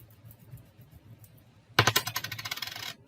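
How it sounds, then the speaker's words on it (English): A coin is rubbed across paper laid over a leaf in a straight line, giving a sudden burst of rapid scraping strokes that repeat for about a second and sit close but fairly quiet against a faint background. "just rub it with that coin, a straight line"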